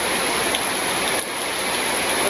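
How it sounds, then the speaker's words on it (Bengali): Steady rain falls on a village in a continuous, even hiss that stays close and fairly loud throughout, with no voices. "এখানে চলছে বৃষ্টি, একটা না বৃষ্টি আর থামার নাম নাই"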